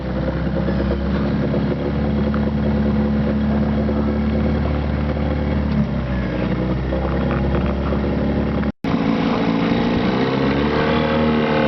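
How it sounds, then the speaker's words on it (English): A boat's outboard motor churns loudly and steadily in deep, soft lake muck, with a brief sudden dropout near the end before the engine noise resumes. "He's struggling to get the motor out of this muck."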